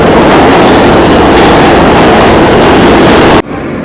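A New York subway train roars loudly nearby as it arrives at a station, with rushing, rattling noise and faint clacks, then the sound drops off abruptly near the end.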